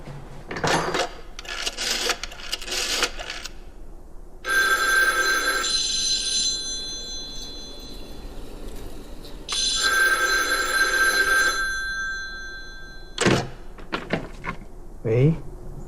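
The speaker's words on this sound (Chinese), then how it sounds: "给崔中实房间打电话。" A telephone rings in two long bursts of bright, electronic trilling, separated by a pause, with shorter clattering sounds before and after, while people talk.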